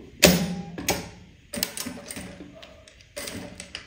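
A sewing machine backstitches a backpack strap in short mechanical bursts, several quick stitching runs separated by pauses, close and fairly quiet.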